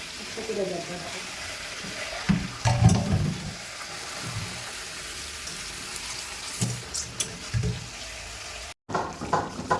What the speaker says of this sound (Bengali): এই যে এখন আলু দিয়ে দিয়েছি, আলুটা করে দিয়েছি